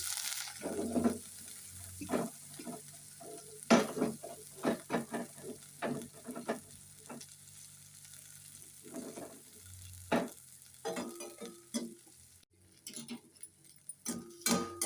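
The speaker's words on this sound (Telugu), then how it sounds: "కొద్దిగా ఆయిల్ వేసుకొని ఆయిల్ సరిపోదండి కొంచెం వేసుకొని చింత చిగురు అయితే వేసేసుకుందాం" Tender tamarind leaves frying in a little oil in a pan, a soft sizzle under frequent clinking, scraping stirs of a spatula, with brief quieter gaps between bursts.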